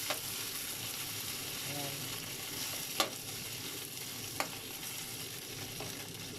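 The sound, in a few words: fish frying in a pan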